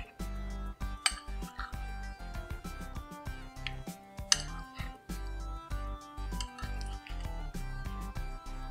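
Fried potatoes for a potato and corn salad are stirred in a dish, a spoon clinking and scraping against it in an uneven, close-up run of knocks and soft squishes.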